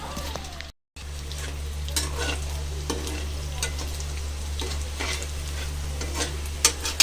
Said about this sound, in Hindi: तो सारे सोया चाप जो हैं वो मेरे फ्राई हो चुके हैं।